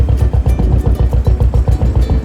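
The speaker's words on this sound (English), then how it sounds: "the faster you run the engine, the faster the prop spins" A steady, throbbing boat engine drone with a regular pulsing beat on the River Thames, loud and close, running continuously without pause.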